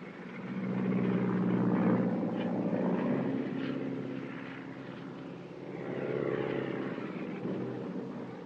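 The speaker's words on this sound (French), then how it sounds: "Hé, Charlie, y a-t-il des touristes dans l'avion qui arrive?" An arriving airplane's engine in a 1954 adventure film: a loud, continuous propeller drone that swells, dips slightly, then rises again, with no talk over it.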